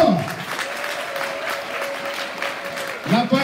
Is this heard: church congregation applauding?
yes